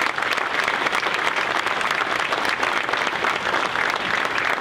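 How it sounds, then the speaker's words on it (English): A live audience at the 2020 Crystal Apple Awards applauds the Pittsville teachers, a loud, dense and sustained burst of many hands clapping with no talk over it. "how about another round of applause for those 2020 Pittsville teachers?"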